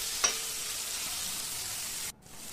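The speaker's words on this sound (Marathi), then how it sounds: "बारीक चिरलेला कांदा आता घातला आहे आणि कांदाही आपल्याला मस्त असा परतून घ्यायचा।" Finely chopped onion sautéing in a pan, a continuous bright sizzle at moderate level with a stirring scrape early on, cutting out suddenly near the end before resuming more faintly.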